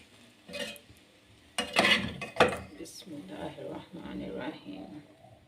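Cooked pasta with cut vegetables is scooped from a metal pot into a serving dish, giving several loud clanks and scrapes of utensil on cookware, then softer stirring sounds, while a person talks over it.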